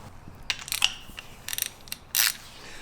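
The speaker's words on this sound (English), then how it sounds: "I'm going to go ahead and take a torque wrench and tighten up the castle nuts to 55 foot-pounds of torque" A torque wrench ratchets as it tightens castle nuts on the steering of a Jeep JL Wrangler, giving short bursts of clicking with pauses between them, close and fairly quiet.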